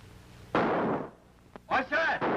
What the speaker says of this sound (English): Gunfire! Cannons!